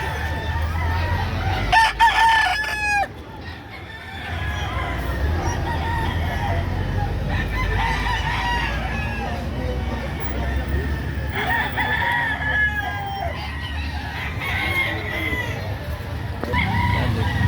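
Several young roosters crow repeatedly at a roadside poultry sale in Lipa, Batangas, their calls overlapping at close range above a steady crowd murmur and the low rumble of a busy outdoor market.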